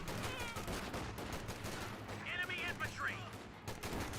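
Rifle fire from a Company of Heroes 2 battle, with a BAR rifle squad shooting at Grenadiers, crackles in quick, repeated bursts under a continuous low rumble and busy battle noise, moderately faint.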